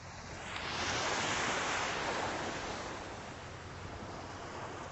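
Atlantic Ocean surf rolls in at Deerfield Beach, Florida at sunrise, a broad steady wash of breaking waves swelling then easing, with wind noise mixed in and no voices.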